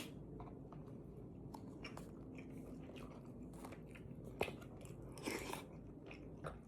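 Close, quiet chewing and biting of Tom Yum soup and Laab, with soft crunches and wet squishy mouth sounds in an uneven rhythm and a sharper bite partway through.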